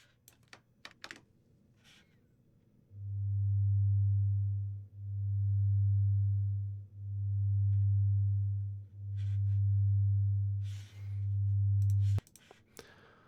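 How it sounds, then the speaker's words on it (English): Low synthesized sine oscillator tone swelling up and fading down in five smooth, evenly spaced volume pulses, preceded and followed by faint computer keyboard typing and clicks. "we hear it. The volume is going up and down."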